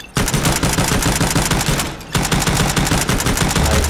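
Rapid gunfire from a red-dot-sighted weapon in the VR shooting game Hot Dogs, Horseshoes & Hand Grenades rattles in a loud, continuous burst, broken by a brief pause before the shots resume.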